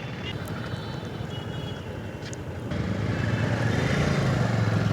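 Road traffic idling at a signal near New Jalpaiguri (NJP) railway station in India: a steady, close rumble of engines that swells louder partway through, with faint voices in the background.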